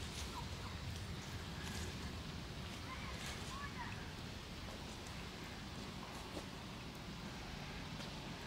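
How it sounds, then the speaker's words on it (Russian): Ducks at the park in Peterhof call faintly through a few scattered soft quacks, well in the distance, over steady outdoor background noise with muffled voices. "Уточки."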